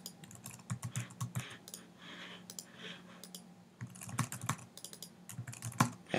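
Rapid, uneven clatter of fingers typing on a computer keyboard, close and fairly quiet, with short pauses between bursts of keystrokes.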